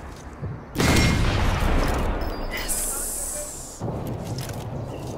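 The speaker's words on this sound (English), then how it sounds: "That gun fires off for a lot of times" Gunfire in the video game Sniper Elite 4 on the Regilino Viaduct level: a sudden loud burst of shots and rushing noise erupts after a quiet start, then settles into a sustained hissing rumble with another surge near the end, with someone talking over it.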